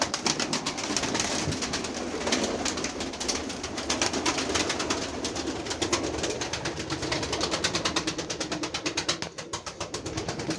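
Pigeons coo softly and repeatedly at close range in a pigeon loft, their low throaty calls rolling on over a faint rustling background.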